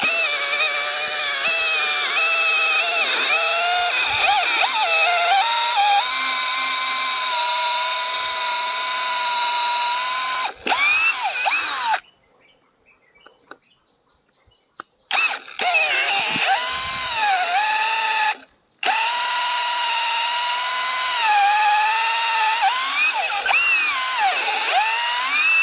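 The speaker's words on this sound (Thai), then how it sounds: "ก็ปรับไปที่โหมดเจาะนะครับตัวนี้จะเป็นดอกใหญ่มากครับเกือบ12นิ้วเลยความยาว" An IMAX IMCD-20BL cordless drill in drill mode bores into hard wood with a very large bit nearly 12 inches long. The loud, steady whine runs in long bursts, wavering in pitch as it bites, with a few short pauses.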